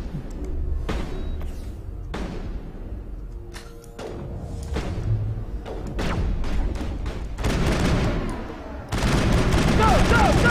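Rapid bursts of gunfire in the Mass Effect video game, with repeated sharp volleys and thuds that grow denser and louder toward the end, mixed with game effects.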